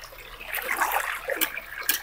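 Water trickles and splashes in a river stream, a close burbling flow with a few brighter splashy bursts over a couple of seconds.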